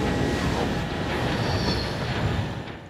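A train rolls past in the video game Ghost Recon Breakpoint, a steady loud rumble of wagons and wheels with faint squeal, sustained throughout and fading slightly at the end.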